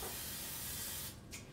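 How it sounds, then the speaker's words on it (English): Cooking spray hisses steadily from a can into a container for peanut butter balls, one continuous close spray of about a second before it cuts off, followed by a brief softer puff. "we use a little trick of the trade, a little spray inside of this"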